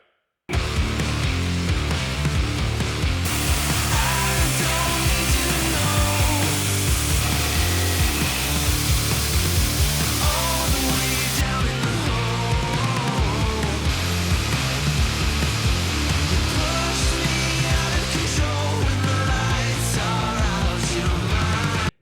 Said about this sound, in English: So I'm finished grinding those four